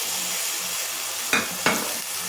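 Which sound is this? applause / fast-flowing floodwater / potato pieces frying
potato pieces frying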